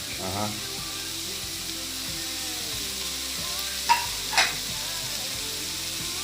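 A spoon scrapes and stirs chicken and fried grated coconut in a pan over a low sizzle, with a couple of sharper clinks partway through; no talking.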